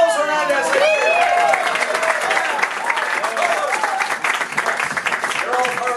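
Audience applause and cheering for a lip sync performer at a lip sync battle, loud and steady throughout with whoops and voices mixed into the clapping.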